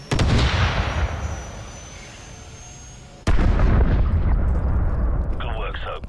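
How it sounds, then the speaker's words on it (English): Call of Duty Modern Warfare Remastered gameplay: heavy, close explosions and gunfire with deep booming rumbles. One loud blast opens the passage and trails into a rumble, then another sudden boom hits midway and stays loud to the end. "Bloody nice shooting this, Soap."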